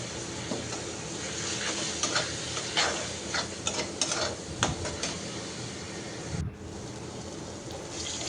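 Tomato and ground greens paste cooks with spices for a fish bhuna, giving a low, close sizzle. Frequent spatula scrapes and clinks against the pan sound over it in an uneven rhythm, and no one speaks.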